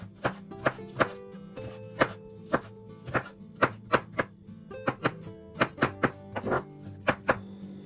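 A knife chops a yellow bell pepper on a cutting board in a home kitchen, giving about fifteen crisp, close thunks in an uneven, steady rhythm with no talking.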